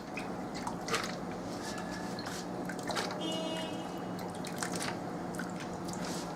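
A little water poured into a blender holding beans for Nigerian akara, a soft steady trickle with small drips and splashes that runs on without a break, close and fairly quiet.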